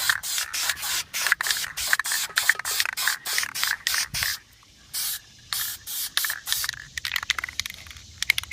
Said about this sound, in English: I'll show you when I'm all done just laying our base paint coat